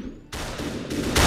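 Gunfire from the Superhot video game rings out as sharp broadband bursts, several shots in quick succession, loud and close, with no talking.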